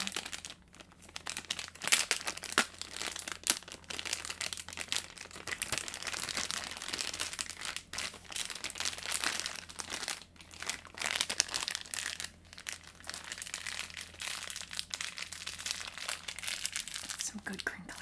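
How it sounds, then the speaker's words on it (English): Close, steady crinkling and crumpling of plastic and paper packaging as a Blue Yeti USB microphone is unboxed, continuous over the whole stretch with a voice occasionally murmuring. "Some good crinkling sounds."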